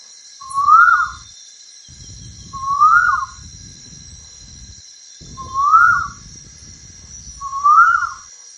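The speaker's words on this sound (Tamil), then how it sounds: "குயில் கூவும்." An Asian koel gives four rising, whistled calls spaced about two seconds apart, over a steady high insect-like whine and low background rumble.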